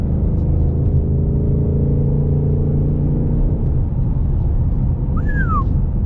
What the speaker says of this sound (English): feels so awesome to drive a V8 car